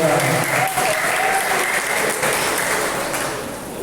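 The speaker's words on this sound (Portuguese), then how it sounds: "Uma forte salva de palmas para a irmã Fernanda" A church congregation applauds warmly, dense sustained clapping from many hands that fades slightly toward the end, with voices mixed into the crowd.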